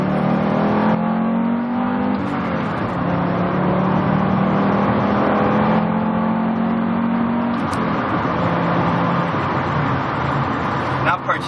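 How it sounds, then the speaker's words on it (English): Naturally aspirated 7A engine of a 1991 Audi Coupe Quattro pulls steadily under throttle from inside the car, a rising harmonic drone that climbs in pitch over several seconds with road noise throughout. "So I'll get on the gas a bit here."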